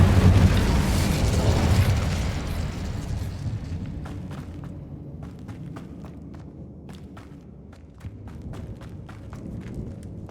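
Incendio fire spell burning spider nests in Hogwarts Legacy: a big roaring fiery burst opens and fades over a couple of seconds, followed by scattered sharp crackles and clicks in a quieter game space.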